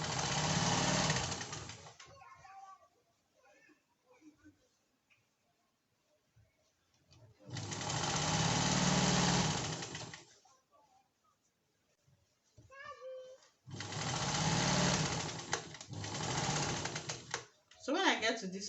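Sewing machine stitching fabric for a dartless skirt, three loud steady whirring runs of several seconds each, separated by quiet pauses with soft speech.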